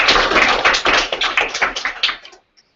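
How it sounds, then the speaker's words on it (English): A round of applause for a student at a Minecraft education geek camp, many hands clapping loud and close in a dense burst that fades out at the end. "So let's give this guy a round of applause."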